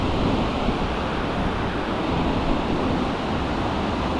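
River rapids in the Trinity and Klamath National Forests make a steady, dense roar of rushing water, loud and unbroken throughout.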